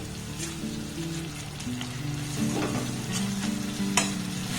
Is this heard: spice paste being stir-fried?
yes